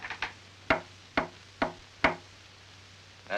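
Knocking on a door in a 1935 film, a couple of quick raps followed by four single, evenly spaced, sharp knocks, near and clear with no talk.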